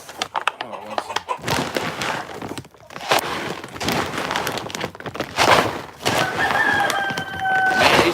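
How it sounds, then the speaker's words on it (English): Chickens cluck and squawk close by while eating feed, a busy overlapping flock chatter with a few sharper calls and a thin whistling tone near the end. "these chickens eat this feed right up"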